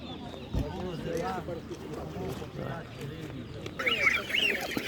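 Geese honking at a Ukrainian animal market in Ivano-Frankivsk, scattered nasal honks and calls close by, mixed with talking and market background noise, with a sharp knock early and a shrill burst near the end.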